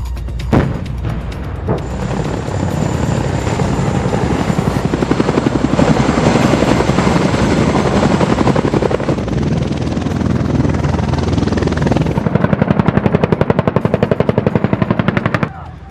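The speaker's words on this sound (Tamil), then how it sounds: "ஹெலிகாப்டர் சாகசம், ஏவுகணை தாக்குதல் உள்ளிட்ட பல்வேறு பயிற்சிகள் நடத்தப்பட்டன." A military helicopter's rotor thumps loudly and steadily overhead during military exercises, with rapid bursts of gunfire mixed in, a constant roaring din throughout.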